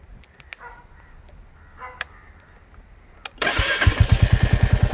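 Royal Enfield Classic 350 with the J-series engine fires up abruptly after a few seconds of quiet background, then settles into a loud, close, steady idle of evenly spaced thumping beats.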